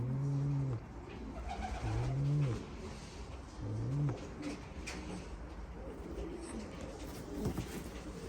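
Pigeons of an Uzbek breed kept for sale, giving several low, rolling coos in repeated phrases over faint background noise, with a brief dog-like sound near the end.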